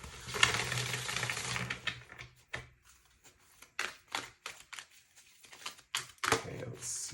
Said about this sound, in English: I'm feeling called to give these cards a good shuffle.